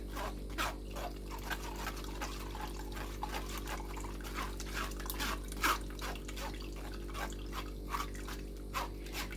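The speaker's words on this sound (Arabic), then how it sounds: "اروح مصفيه السلق بالكزبره اللي انا ضربتها اهي" Blended Swiss chard and coriander liquid is strained in a kitchen, producing soft, irregular trickling and dripping splashes that repeat close by over a low steady hum.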